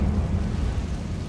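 A Confringo fire spell explodes in Hogwarts Legacy as a loud, dense blast of low rumbling roar that fills the whole moment without a break.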